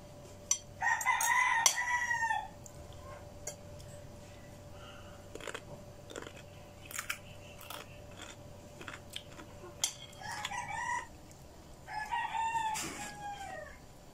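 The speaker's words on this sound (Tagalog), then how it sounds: "ingay naman ng mga manok." Roosters crow and chickens cluck in a rural yard, several separate crows and short bursts of clucking at a moderate distance against quiet background, with no talking.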